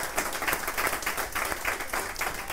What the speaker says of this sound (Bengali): একটু জোরে হাততালি দিও।